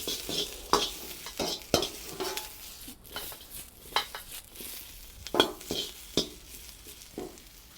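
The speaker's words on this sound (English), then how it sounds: "first thing to go in is the onion. We're just going to be cooking this through for about 2 or 3 minutes" Onion frying in a pan for Chinese takeout-style chicken with mushroom, a steady sizzle punctuated by frequent sharp stirring clanks and scrapes of utensil on metal, close and clear.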